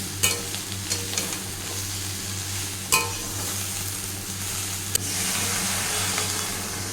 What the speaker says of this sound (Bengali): এখানে করছি আমি ভিন্ডি ভাজা আর এইখানে চলছে একটা পাঁচমিশালি তরকারি